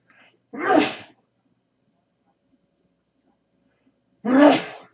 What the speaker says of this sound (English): Oh, had to sneeze there.